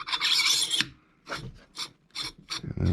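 A threaded suppressor part is screwed back into place, producing short close raspy metal-on-metal scraping bursts in an uneven rhythm, with no talking.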